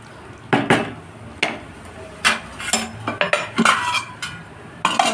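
A spoon scrapes and clinks against a pot while potato curry is mixed, irregular metallic knocks and taps, some rapid and clustered, fairly close with no voices.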